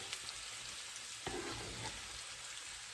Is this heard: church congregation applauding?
no